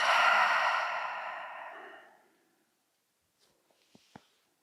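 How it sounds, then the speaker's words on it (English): A long, audible exhale during a yoga session fades slowly to silence, followed by a few faint soft clicks. "So take a final breath in and a final breath out."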